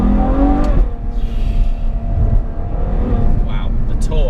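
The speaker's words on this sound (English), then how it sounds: "that sensational sound that you get out of this V12 engine" A powerful Ferrari V12 engine roars and revs continuously, loud and close, with a deep rumbling tone throughout.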